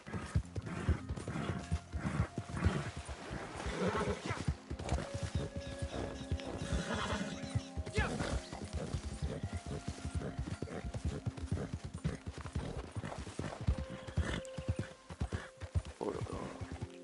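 Horse hooves clip-clop quickly and continuously in the Red Dead Online video game, with a few neighs and snorts breaking through the galloping rhythm at moderate volume.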